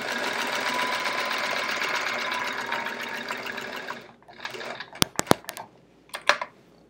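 A sewing machine quilting in the ditch runs in a steady, continuous whir for about four seconds, then stops, followed by a few sharp clicks and short mechanical bursts.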